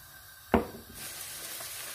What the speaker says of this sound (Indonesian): setelah minyak panas ini dia kita akan goreng nasi ya nasi kering